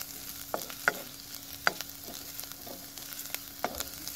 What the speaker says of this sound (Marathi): हे लसूण आणि मिरची थोडं परतून झालं आणि त्याचा कच्चेपणा गेला